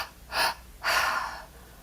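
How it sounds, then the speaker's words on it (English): Deep breathwork breaths, a strong inhale followed by a long, airy exhale, close to the mic and unaccompanied by speech. "Staying with the breath."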